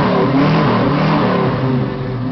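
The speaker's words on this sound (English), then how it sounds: "Want to rev it up a little bit? Get the rumble of those mufflers?" A Ford Mustang Mach 1 fastback with ram air revs up close by, its engine climbing into a loud, sustained roar with deep muffler rumble beneath, alone without voices.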